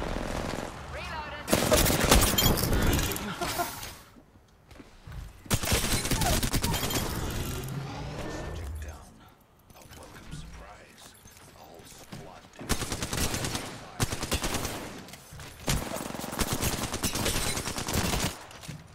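Gunfire rings out in an Apex Legends team deathmatch, including the Kraber, with loud bursts of rapid shots separated by quieter gaps and a voice talking faintly underneath.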